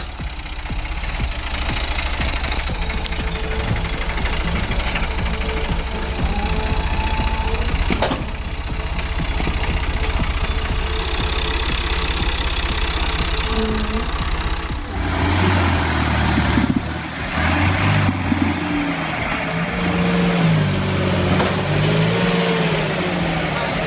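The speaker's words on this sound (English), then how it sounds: "The BT Gold Power 260 has a powerful 26 horsepower engine" A BT Gold Power 260 tractor with a 26 horsepower engine and 2WD runs steadily, a continuous loud mechanical drone with knocking undertones that roughens and shifts in pitch partway through.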